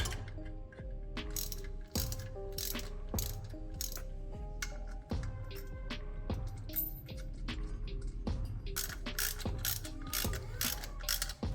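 A ratchet tightening an alternator onto its bracket on a 1983 Buick Regal, with rapid clicking pawl bursts repeated in quick strokes, loud and close, separated by brief pauses.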